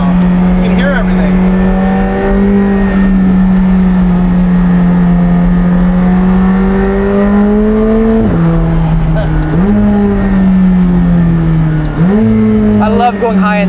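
A McLaren 765LT engine revs high through the RPM range with the windows down, a loud rising roar with sharp dips at each gear change, heard from inside the car with a voice over it.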